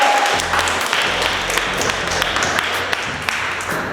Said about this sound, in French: Allez, applaudissez-vous.